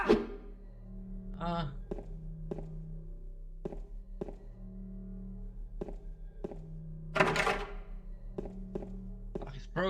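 A broken door lock in the video game Silent Hill 2 thuds in a series of sharp, evenly spaced knocks over a low ambient hum, with a brief louder rattling burst partway through.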